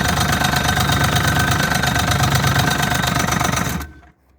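A dump sled snowmobile engine running loud and close with a rough, knocking idle for several seconds before it abruptly cuts out and dies.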